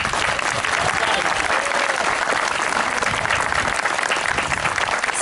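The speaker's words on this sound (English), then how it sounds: "please join me again in a very loud round of applause for Scott" A crowd at a resort hotel's 100th anniversary celebration gives Scott a loud round of applause, with continuous dense clapping that stays strong throughout.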